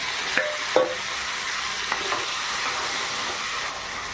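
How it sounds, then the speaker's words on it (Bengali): Mango pieces fry and are stirred in a pan while cooking mango dal: a steady close sizzle runs throughout, with a few sharp scraping strokes of the spoon early on and no talking. "ভেজে নেব এইভাবে নেড়ে চলব কিছুক্ষণ ধরে"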